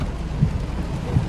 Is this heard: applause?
no